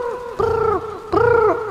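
A person imitates a pigeon's coo with two drawn-out, warbling hoots, close and clear, separated by a brief pause.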